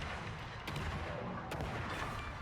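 Torpedoes strike the German battleship Tirpitz in a World of Warships naval battle, two sharp explosive hits standing out over a dense, continuous roar of gunfire and combat noise.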